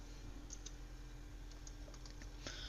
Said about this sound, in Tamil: என்னுடைய குரோம் ப்ரௌசரில் வந்து நான் டைப் பண்ணுறேன்